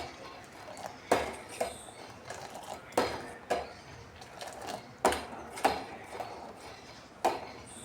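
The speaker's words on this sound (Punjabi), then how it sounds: "ਕਰਸੀ ਨਾਲ ਨਾਲ ਨੂੰ ਚੰਗੀ ਤਰ੍ਹਾਂ ਮਿਕਸ ਕਰ ਲੈਣਾ" Repeated metallic scrapes and clinks of a ladle stirring milk in a pot, irregular strokes spaced about a second apart, close and fairly quiet.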